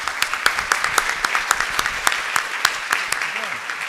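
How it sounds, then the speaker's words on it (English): Applause from the audience at a talk on tackling food waste with artificial intelligence, with distinct individual claps at a moderate level and voices talking over them. "But let's give them a big round of applause."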